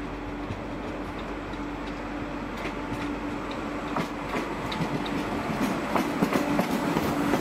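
A train pulls into a station platform in Strasbourg, a steady rumble with faint clicking wheels and a low hum building gradually over several seconds, with no voices.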